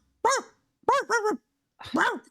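A dog barks in a game playtest: four sharp barks, the first alone, then a quick pair, then a last bark after a pause, close and loud with silence between.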